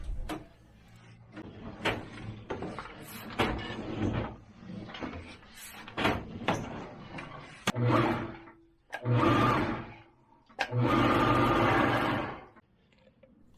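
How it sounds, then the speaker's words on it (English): A high-speed cutting machine works inside a sewer liner, grinding and whirring in uneven bursts that start and stop, with a few longer sustained roars toward the end. "put a different head on the end of this high-speed machine, which will cut open the liner, or reinstate"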